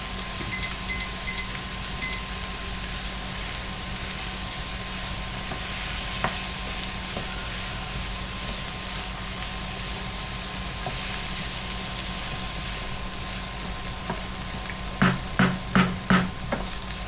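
Carrot and celery frying and stirred in a pan, a soft constant sizzle under faint room hum, with a few light utensil taps and a quick run of clicks near the end, no talking.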